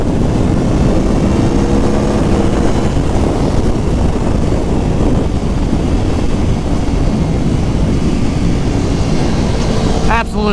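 A 2019 Aprilia Tuono Factory motorcycle engine under way, a loud continuous roar buffeted by heavy wind rush from riding at speed, holding steady throughout.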